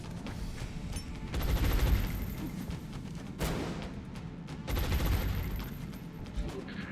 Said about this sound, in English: I am just gonna flashbang them